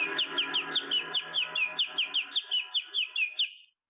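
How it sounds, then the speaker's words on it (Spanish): A small bird sings a rapid series of evenly spaced chirps, about four per second, over a sustained gong tone that rings underneath before both stop abruptly. "Deberían haber escuchado el gong y el pajarito al mismo tiempo"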